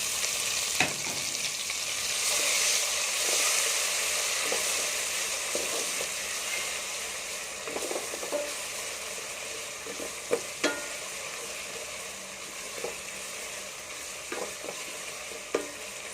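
Garlic-ginger paste and green chili paste sautéing with onions in a pan for an aloo matar gajar methi dish, a steady close sizzle with occasional stirring clicks and scrapes of a spoon, with no talk.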